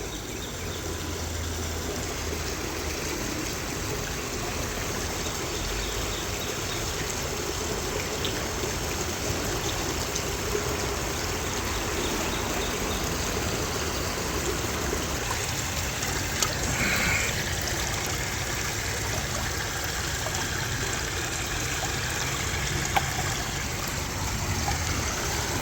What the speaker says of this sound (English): We're going to take it out, spin it around, and see what it does.